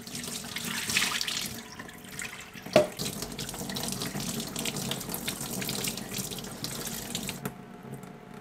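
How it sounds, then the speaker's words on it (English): Running tap water steadily rinsing candied smoked Alaskan salmon in a sink, a continuous close splashing hiss with one brief clunk midway, no speech. "We're gonna give it one final rinse"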